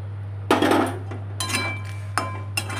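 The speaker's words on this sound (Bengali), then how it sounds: "পনিরটা দিয়ে দিলাম, একটু নেড়ে নিলাম।" Paneer stirred in a cooking pan: a few clattering scrapes and clinks of a utensil against the metal pan in short bursts, close and moderately loud over a steady low hum.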